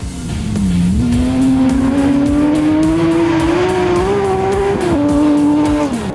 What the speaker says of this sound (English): it was a strong day for Jeff David in the Porsche, driving really well out in the stages